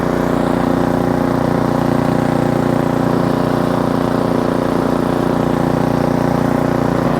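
An Ariens Platinum 24 SHO snowblower runs in first gear, its engine droning steadily and loudly throughout with an even, unbroken mechanical hum and no talking.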